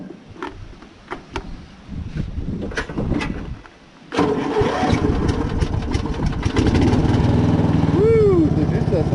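Vehicle engine with a weak battery cranking and failing to start, then catching and settling into a steady close idle, with a voice talking over the early part.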